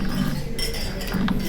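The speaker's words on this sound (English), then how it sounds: "Oh, I hear lots of clinking, clinking," Glasses and cutlery clinking around tables at a charity luncheon, several light bright chinks over a busy room murmur, moderately close.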